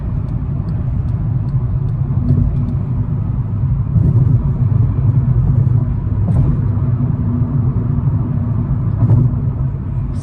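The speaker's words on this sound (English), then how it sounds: "6th gear. Out on the highway, just cruising." A 2012 Volkswagen Golf TDI diesel with a manual gearbox cruises in sixth gear on the highway, giving a steady, loud low rumble of engine and road noise that stays even throughout with no talking.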